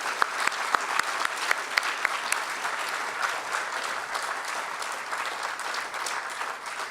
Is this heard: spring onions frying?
no